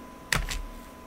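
A computer keyboard being typed on, giving two quick, faint key clicks close together and then quiet, with no talking.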